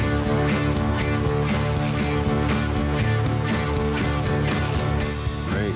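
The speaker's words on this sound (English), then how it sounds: "Now we'll need a smaller socket for these upper ones." A ratchet fitted with a smaller socket turns bolts with steady, dense, continuous clicking. It is loud and close throughout, with no talking.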